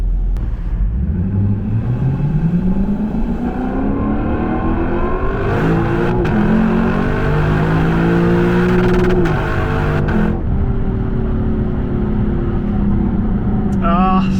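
Lexus LC500 on its stock exhaust, heard from inside the cabin with windows up while driving, a loud deep engine note rising and falling through several gear changes with a steady rumble throughout.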